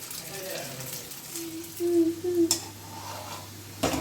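Chhana kofta balls fry in hot oil over lowered heat, giving a soft continuous sizzle with a few brief metallic clinks and a short clatter at the end, while someone talks nearby.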